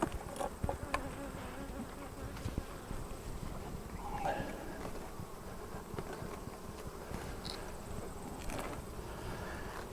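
Honeybees swarm and buzz steadily around an open hive during a honey harvest, a dense close drone with no talking over it.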